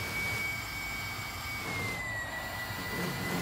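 VW ID.R electric race car lifting off at a braking point on the Le Mans circuit: a steady, high-pitched electric motor whine over a loud, continuous roar of wind and road noise, with no talk.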